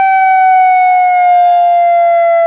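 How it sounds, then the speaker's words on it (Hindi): A loud, steady civil defense siren holds at a single high pitch with rich overtones, sounding alone and unbroken from start to finish, during a blackout mock drill in Madhya Pradesh, India. "ये सायरन की आवाज है"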